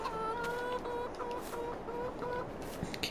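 Chickens cluck in the farming video game Court Farm, a run of short, repeated game clucks over steady background ambience, fairly close and moderately loud, with no talking.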